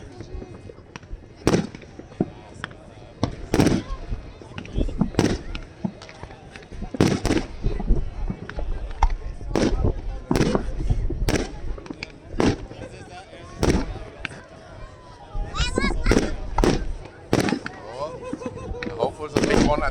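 Large fireworks at a resort show burst repeatedly, sharp cracks and booms at irregular intervals over twenty seconds, some in quick clusters, with crackling tails and occasional voices between the explosions.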